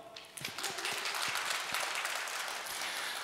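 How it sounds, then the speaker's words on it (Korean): Audience applause for an announcement about Gwangju FC at an economic platform presentation: a steady, moderately quiet wash of many hands clapping that continues without pause for about three seconds. "우리 박수 한번 쳐주시죠"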